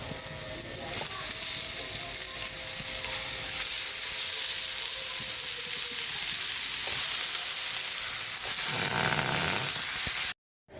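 Chicken pieces for tinola sizzling and sautéing with onions in a hot pan, a steady close hiss with occasional stirring, cutting off abruptly at the end.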